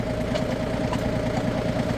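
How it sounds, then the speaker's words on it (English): A tractor engine idles with the throttle down while a post hole digger is being refurbished, giving a steady, close, even low rumble that never changes across the short stretch and has no talk over it. "And I'm just idling the tractor."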